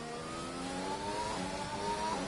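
An F2 race car in a PlayStation racing game accelerates out of the final corner at the Saudi Arabian Grand Prix, with a rising whining engine note that climbs steadily at moderate loudness.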